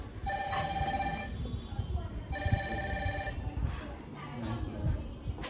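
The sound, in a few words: phone ringing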